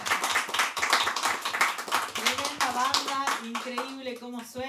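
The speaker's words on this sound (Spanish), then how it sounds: "Aplausos para ellos." Audience clapping for a live band in a music studio session, a brisk burst of hand claps that fades as a voice begins talking over it.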